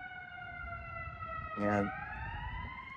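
An ambulance siren passes outside, its steady wailing tones sliding down in pitch as it goes by, while someone talks over it with a brief word in the middle.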